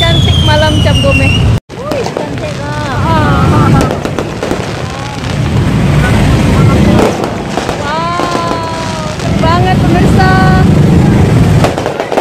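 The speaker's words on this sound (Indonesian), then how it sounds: "kita beruntung kita menemukan kembang api cantik" Fireworks burst repeatedly during a Cap Go Meh night celebration, loud crackling booms and whistles rising over a busy crowd with people talking nearby.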